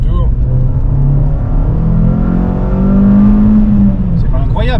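A Renault Clio 2 R.S. Trophy's engine and exhaust rumble loudly from inside the car, revs climbing steadily then easing, with a continuous low drone under brief talk.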